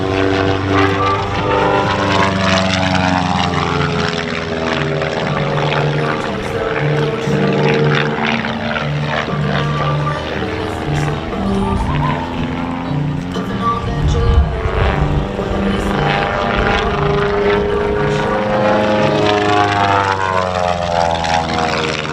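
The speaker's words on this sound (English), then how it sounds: "this airplane he affectionately calls the backwards plane" A Long-EZ aerobatic airplane performing at the Lake Cumberland air show in 2024 drones loudly and continuously overhead. Its propeller engine hums with a rich, layered tone whose pitch swells and sags as it maneuvers.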